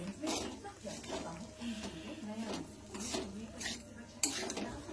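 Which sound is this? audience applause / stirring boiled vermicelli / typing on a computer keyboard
stirring boiled vermicelli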